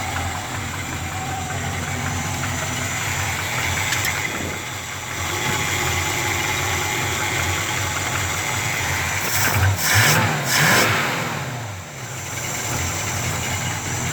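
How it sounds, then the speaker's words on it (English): A G-body car engine with turbo mufflers and shorty headers runs steadily at idle, a rough, continuous low rumble held close and loud, briefly rising around the middle with no speech over it. "Just turbo mufflers straight back out with the shorty headers. Sounding good right now."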